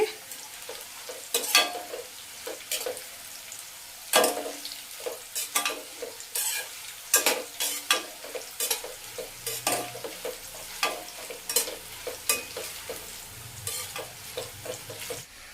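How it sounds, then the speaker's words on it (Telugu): Bitter gourd pieces fry in a pan for a curry with tomato and dal, a continuous sizzle under frequent scraping and tapping stirs that come close and fairly loud, without any speech. "కాకరకాయ ముక్కలు అయితే వేగుతున్నాయి ఇంకా కొద్దిగా వేగితే సరిపోతుంది"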